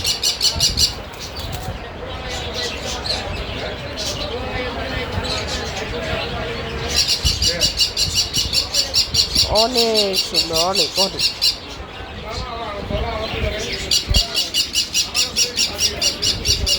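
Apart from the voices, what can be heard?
birds at a bird market, parrots and lovebirds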